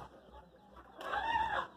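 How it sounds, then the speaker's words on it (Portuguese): Chickens clucking inside a coop where young roosters are kept, a soft murmur of fowl that swells into louder, busier clucking in the second half, fairly close. "Tem que olhar ainda aquelas galinhas lá dentro, os galinhos estão presos."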